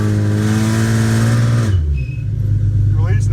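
Drag car engine held on a transbrake, revving steadily around 2,500 RPM with a loud, harmonic drone that drops in pitch partway through and settles into a lower idle-like rumble, close up.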